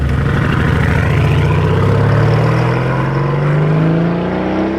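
A matte orange Lamborghini Urus SE revs loudly up close at the factory, its engine note climbing steadily in pitch as the throttle opens.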